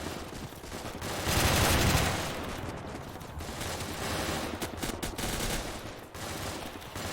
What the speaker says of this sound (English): but the hull machine gun will work just the same